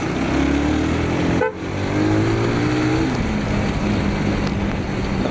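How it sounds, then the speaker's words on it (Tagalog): A vehicle horn sounds a long, loud sustained blare close by, breaking briefly and then resuming, over a constant roar of engine and road noise with wind rushing past. "Lakas pa na ng busina ko."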